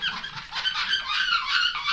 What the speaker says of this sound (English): just like you'd expect with rubber, it's going to squeak.